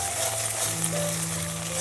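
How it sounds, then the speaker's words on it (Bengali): Ground spice paste frying in oil for a duck curry, a dense continuous sizzle with a low steady hum underneath, close and even throughout. "মশলাটাকে ভালো করে কষিয়ে নেব।"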